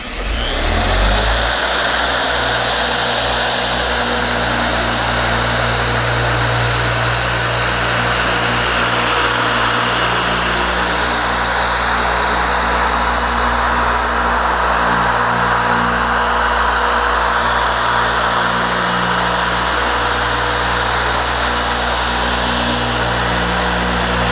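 A TORQ X machine polisher works over car paint, buffing side to side as a loud, steady electric motor drone with a constant hum that never lets up, close and continuous for the whole stretch.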